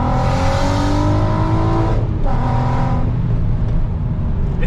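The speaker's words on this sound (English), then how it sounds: "rev match in a second" A straight-piped VW Golf R32 engine revs hard during a rev match, a loud, raspy exhaust roar that climbs, dips briefly, then surges again without pause, close up and continuous.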